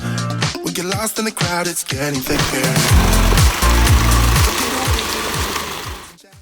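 Roller shutter lowering on a Mercedes Sprinter-based camper van, a loud motorized rattling clatter of slats rolling down steadily for several seconds before stopping.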